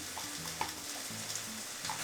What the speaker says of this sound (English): our chicken has been cooking for a couple minutes now